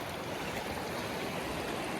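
Mountain stream rushing just before a waterfall near Szklarska Poręba, a steady, broad, close wash of flowing water with no breaks and no voices.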